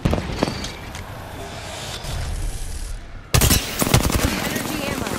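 Rapid bursts of automatic gunfire strike the player in a sci-fi shooter game, with scattered shots first, then a sudden loud, dense volley of cracks and impacts close up near the end.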